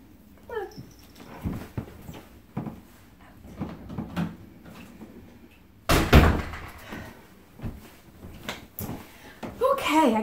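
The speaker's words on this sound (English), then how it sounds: "Sorry guys, I'm gonna close the door." A household door is shut with one sharp, loud slam midway through, amid scattered indoor handling noises; someone talks and a cat whimpers around it.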